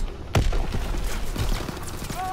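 A sharp loud shot, then a rattle of scattered gunfire from Call of Duty: WWII multiplayer, with several quick bursts following over a couple of seconds.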